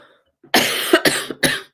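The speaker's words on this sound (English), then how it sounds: "One more cough." Three sharp, loud coughs close to the microphone, one after another, with brief pauses between them.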